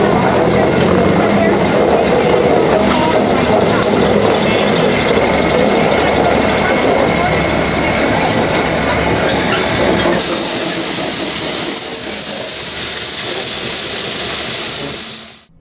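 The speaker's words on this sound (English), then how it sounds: "just in time to see number 11, a GE 98-tonner, switching cars from the earlier trains." A GE 98-tonner locomotive switches cars at the Durango depot on the Durango and Silverton narrow gauge railroad, a steady loud engine rumble with clanking, then a bright hiss rising in the final seconds before it fades out.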